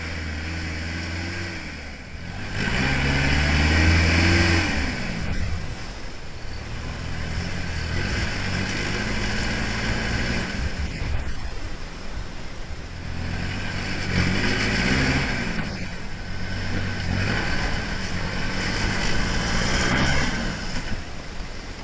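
A Toyota Hilux 4WD climbs an off-road track near Lithgow, its engine revving in repeated surges and easing back, a moderately loud, slightly distant rumble with no talk.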